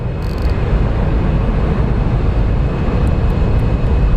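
A WestJet airliner departing Phoenix Sky Harbor International Airport, bound for Calgary, gives a steady, loud broadband jet roar that holds evenly throughout with no talk.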